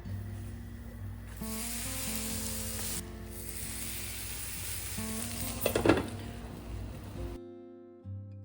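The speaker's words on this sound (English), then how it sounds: "I'm using my multi-snack pan, which is perfect for making small uttapams, pancakes and fried eggs." Small uttapams frying in a multi-snack pan, a soft continuous sizzle with tonal hum beneath, a brief louder burst near the end before it drops away.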